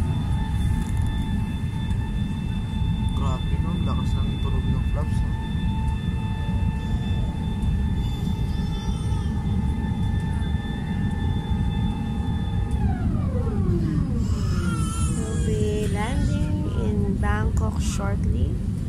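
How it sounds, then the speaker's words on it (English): Airliner landing at Bangkok with landing gear down, loud broadband cabin roar throughout with steady tones that sweep downward near the end, as heard from inside the aircraft. "Landing gears down here in Bangkok."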